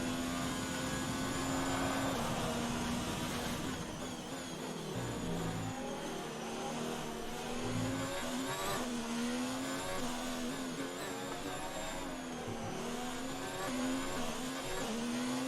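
Loud, continuous engine whine of an F1 2019 race car at full throttle in a video game racing in Azerbaijan, a steady high-pitched drone with rising and falling pitch sweeps as gears shift, with no talk over it.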